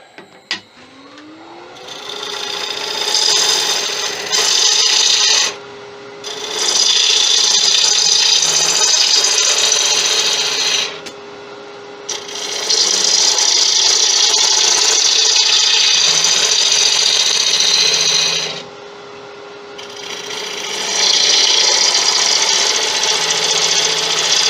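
A 1/2 inch gouge shaping the outside of an acacia wood incense burner on a lathe, producing loud sustained scraping and cutting bursts broken by short pauses as the tool lifts off, with no talk.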